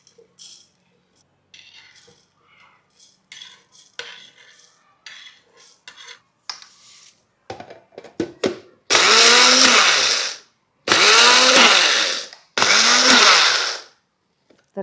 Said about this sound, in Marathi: मी जो हा अगारोचा ब्लेंडर वापरते